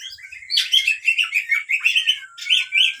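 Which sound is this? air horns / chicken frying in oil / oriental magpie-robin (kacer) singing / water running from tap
oriental magpie-robin (kacer) singing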